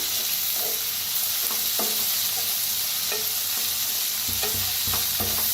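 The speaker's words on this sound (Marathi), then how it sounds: "आता कांद्याला भाजून घेऊया।" Chopped onion and spring onion hiss steadily in a pan while a spoon scrapes and stirs at irregular intervals, close up and without talk.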